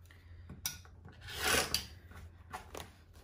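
A dull, worn blade cuts through quilting fabric in several rough, rasping strokes that swell in the middle, close and fairly quiet with no talking.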